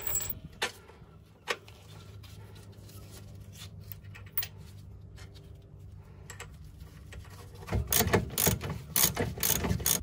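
A ratchet clicks close up while tightening the lower ball joint bolts on a Ford Transit van, with a few isolated clicks at first, then a louder, rapid burst of ratcheting near the end.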